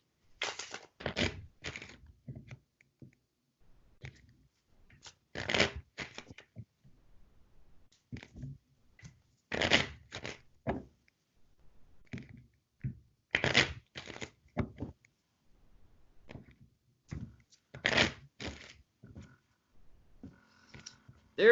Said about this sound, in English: Jen, I'm about to get loud with shuffling.